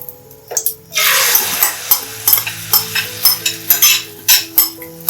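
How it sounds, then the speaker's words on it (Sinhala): Beaten egg omelet mixture hits a pan of hot coconut oil with a loud sizzle, followed by a rhythmic series of scrapes and stirs from a utensil against the pan as the frying continues. "අපි කවලම් කරගත්ත බිත්තර මිශ්‍රණේ දැන් මේ ආස්පාන්ට දැම්මා."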